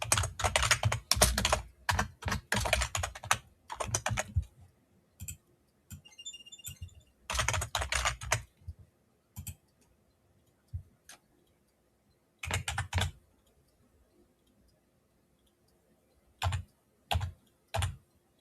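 Keys clatter on a computer keyboard as a full name is typed into an online form, coming in quick close bursts of rapid keystrokes separated by short pauses and scattered single taps.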